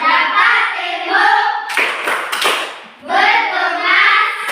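Classroom children chanting together while clapping hands in a rhythmic game, a loud group of young voices with brief bursts of claps breaking into the sing-song chant midway.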